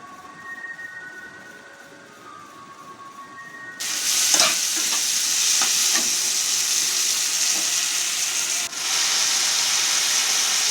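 Spice masala with potatoes begins to fry loudly in hot oil partway through, giving a sudden, steady sizzle with a few scraping stirs over it. Before that there is only quiet room noise.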